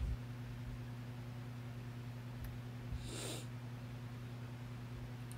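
One short, breathy sniffle from a pregnant woman rises briefly over a quiet, constant low hum; otherwise the room stays still.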